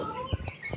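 A naked-neck hen clucks in a few short, soft bursts close by, with no one talking.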